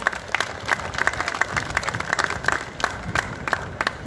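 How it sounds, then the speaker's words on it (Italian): An audience at an outdoor festival award ceremony in Guagnano applauds the mayor, with dense, crisp clapping and distinct sharp claps popping out close by, some faint cheering mixed in. "un applauso al sindaco."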